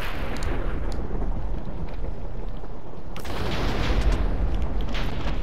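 A Minecraft Bedrock explosion makes a continuous loud, rumbling boom that swells and stays dense and close throughout.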